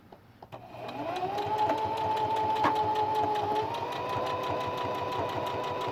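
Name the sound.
sewing machine stitching fabric mask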